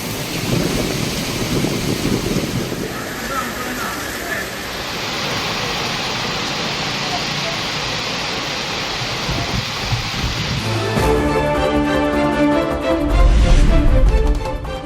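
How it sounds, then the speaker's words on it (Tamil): Summer rain falling across parts of Tamil Nadu, a steady broadband wash of downpour that holds throughout, with a louder, rougher stretch near the end. "தமிழகத்தின் பல்வேறு பகுதிகளில் பெய்த கோடை மழை."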